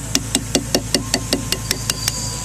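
Chisel struck with a mallet into wood while contour carving a face, a steady series of about twelve evenly spaced sharp knocks, close and clear over a low constant hum.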